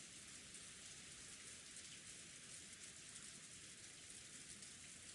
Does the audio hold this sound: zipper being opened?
no